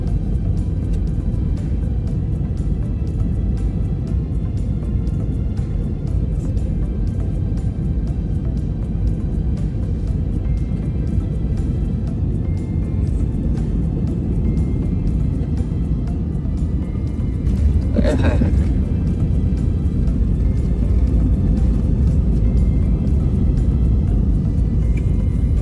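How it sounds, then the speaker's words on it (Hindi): Passenger airliner landing at Allama Iqbal International Airport in Lahore, heard from inside the cabin as a loud, steady low roar that runs throughout, with one brief sharp knock partway through. "ये जी हमारी लैंडिंग का टाइम आ गया है इलामा इकबाल इंटरनेशनल एयरपोर्ट पर"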